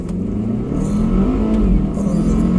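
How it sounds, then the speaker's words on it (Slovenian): A Volvo S60 Polestar with over 360 horsepower accelerates hard, its engine drone steady and loud from inside the cabin, with a faint voice briefly underneath. "Kako zgleda pospešek v avtu, ki ima več kot 360 konjev."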